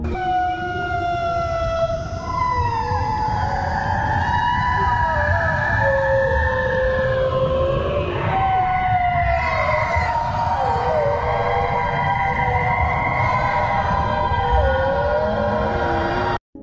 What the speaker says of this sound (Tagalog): Ilang siyentipiko ang nakapagtala ng mga boses umano ng sirena gamit ang sonar.